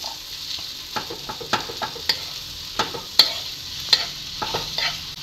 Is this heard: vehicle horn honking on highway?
no